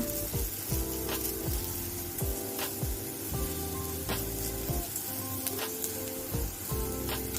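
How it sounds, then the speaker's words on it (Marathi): Fennel, coriander and poppy seeds sizzle and crackle steadily in hot oil in a pan with fried onion, with a constant close frying hiss and occasional stirring clinks, no talking. "बडीशेप, धणा आणि खसखस म्हणजे तेलामध्ये व्यवस्थित भाजून घेऊया"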